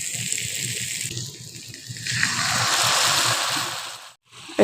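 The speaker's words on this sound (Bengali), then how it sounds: "এবার আমি পরিমাণ মতো জলটা দিয়ে দিচ্ছি।" Water gushes from a container into a pan of spiced, fried potatoes during a Bengali Morla fish curry preparation, a steady pour with a brighter rush partway through before it stops abruptly.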